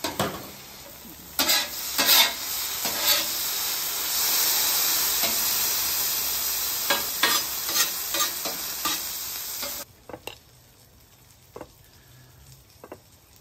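A bagel sandwich ingredient sizzles loudly on a hot griddle as it is smashed flat, a steady frying hiss punctuated by spatula scrapes and taps, then the sizzle cuts off leaving quiet scattered clicks.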